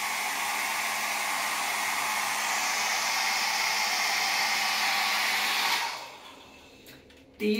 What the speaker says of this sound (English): So thank goodness they have this little convenient blow dryer.